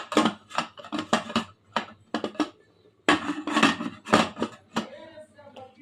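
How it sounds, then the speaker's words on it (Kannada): A pressure cooker lid is shut over mutton: a run of sharp metallic clanks and knocks in irregular bursts, close and fairly loud, with a short pause midway. "ನಾನು ಈ ಕುಕ್ಕರ್ ಮುಚ್ಚಿದ್ದೀನಿ, 3 ವಿಸಿಲ್ ಮಾಡ್ತೀನಿ"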